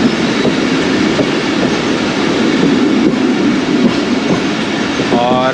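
The Khyber Mail train pulling into Mian Channu railway station on a cold foggy day in Punjab, a loud continuous rumble of wheels and carriages with rhythmic clatter and a brief high squeal near the end.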